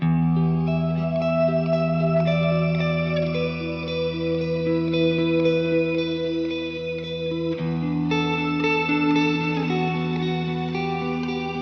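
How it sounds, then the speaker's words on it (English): Sustained guitar chords wash out in layered, shimmering reverb and echo, the notes blooming and overlapping into a dense ambient swell, steady and loud. "You want to build a stacked reverb sound that complements each other"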